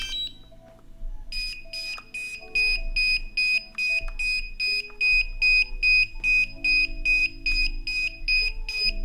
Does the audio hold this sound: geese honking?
no